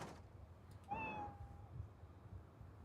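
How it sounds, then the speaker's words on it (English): A cat outdoors lets out a single drawn-out meow, faint and distant, against a quiet low background rumble. "I just heard a cat."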